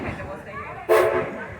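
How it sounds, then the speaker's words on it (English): A train whistle sounds at the Greenfield Village railway station. After a stretch of low background noise and voices, it gives one sudden loud blast that holds for most of a second. "Wait for the whistle."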